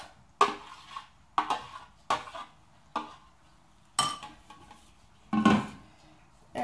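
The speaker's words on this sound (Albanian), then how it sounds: "E rrafim së bashku të gjithë masën." Yogurt, butter and margarine beaten together in a bowl, a series of sharp utensil strokes against the bowl in an uneven rhythm, close and fairly quiet.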